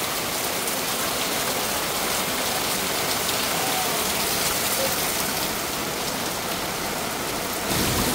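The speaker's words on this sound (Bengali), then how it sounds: "এত সুন্দর বৃষ্টি হচ্ছে।" Heavy rain pours down in a steady dense hiss with low thunder rumbling underneath, continuous and loud throughout, without any talking.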